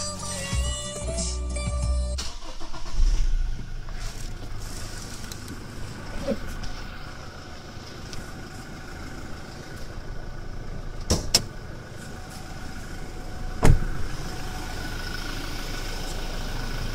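A Toyota Innova Crysta with the 2.8-litre 1GD diesel engine settles into a steady, moderately loud idle after a brief start at the beginning, with a couple of faint clicks over the low engine hum.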